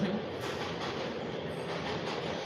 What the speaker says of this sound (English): The train going.